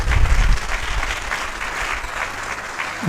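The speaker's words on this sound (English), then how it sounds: "Please give him another round of applause." Warm applause for a professor of mechanical engineering at a university inaugural lecture, a thick, continuous crowd clapping at close range, heaviest at the start and easing a little.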